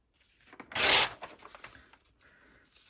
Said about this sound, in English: tearing paper and tearing fabric especially.